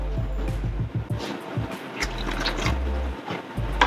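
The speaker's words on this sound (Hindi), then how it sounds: "यहाँ हम 2 कप पानी इसमें डालेंगे।" Water poured from cups into a cooking pot of fried garam masala and lentils for Kabuli khichri, a steady close splashing pour with a low rumbling undertone and no talk.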